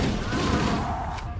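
Grenade explosion in the video game Halo CE, a dense booming burst with rumbling gunfire-like crackle that fills the short moment and fades slightly at the end.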